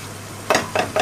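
Chicken liver being sautéed in a pan: three close, quick scraping stirs with a sizzling hiss follow a low steady hum, with no one talking.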